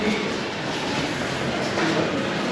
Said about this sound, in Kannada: Nilgiri mountain railway